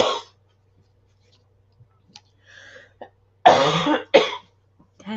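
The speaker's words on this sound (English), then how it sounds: "It's just an itchy cough." An itchy, dry cough bursts out in two or three close harsh hacks after quiet moments, near and fairly loud, with a brief throat noise at the start and soft sounds scattered between.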